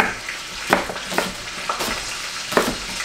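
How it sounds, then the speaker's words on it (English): Onions are sliced with a knife in a home kitchen, with a few sharp, irregular cutting strokes heard up close and moderately loud. "But right now I'm just going to slice up the onions."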